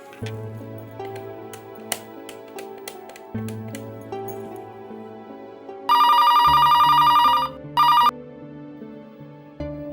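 A telephone rings in two bursts of an electronic trill, the first long and the second shorter, loud over a soft musical background.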